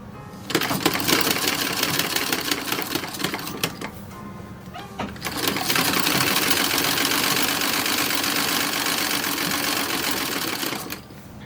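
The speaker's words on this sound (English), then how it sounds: "we're going to sew this by machine" A domestic sewing machine stitches the collar of a toddler romper in two loud, steady whirring runs split by a brief pause, close to the microphone and with no talk.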